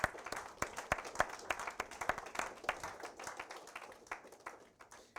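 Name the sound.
audience applause at honor society induction ceremony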